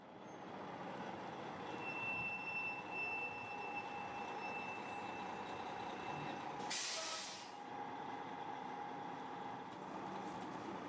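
Air brakes on a bus release a sharp burst of hiss over a steady, loud idling engine rumble that runs throughout without voices.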